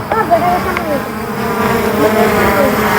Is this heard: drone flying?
yes